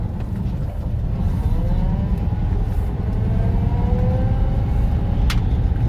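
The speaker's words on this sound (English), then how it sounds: "It's got the whine in first gear." A 1960 Volkswagen Bug with a crash box transmission in first gear, its steady engine drone carrying a faint thin gear whine that rises slightly, heard from inside the car with no talk.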